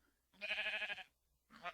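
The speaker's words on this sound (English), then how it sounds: "Hello, sheep. Brown sheep." Two bleats from a brown sheep in Minecraft, a longer nasal cry and then a shorter one after a brief pause, heard close and fairly quiet with no talking over them.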